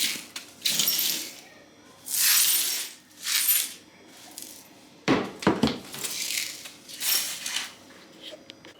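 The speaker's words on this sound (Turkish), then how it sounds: "Tencerenin cam kapağı düştü." A glass pot lid falls in a home kitchen, a sharp crash around five seconds in followed by scattered clinks and rattles, among bursts of nearby clattering and brief voices.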